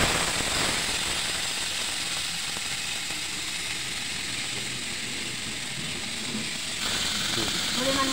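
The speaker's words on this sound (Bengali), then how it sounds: "আর কাঁচকলা আলুটা ভেজে নেব" Green plantain and potato pieces fry in hot oil, giving a steady, dense sizzling hiss that runs unbroken throughout at close range.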